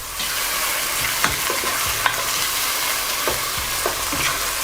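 Tomatoes and tomato paste fry steadily in a hot pan for spaghetti sauce, with a continuous close sizzle and a few short scraping stirs of a spoon across the pan, with no talking.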